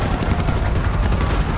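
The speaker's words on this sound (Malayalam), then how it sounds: "ഹെലികോപ്റ്റർ" A helicopter in the video game GTA 5 Online gives a continuous, loud rotor thrum with a fast, even chop running throughout.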